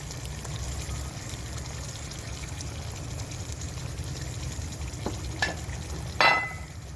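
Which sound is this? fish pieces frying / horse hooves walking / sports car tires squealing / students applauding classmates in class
fish pieces frying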